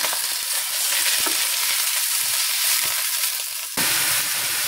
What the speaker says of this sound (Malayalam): ഇനി ഇതിലേക്ക് നമുക്ക് സവോള ഇട്ട് പതുക്കെ ഒന്ന് വഴറ്റിയെടുക്കാം.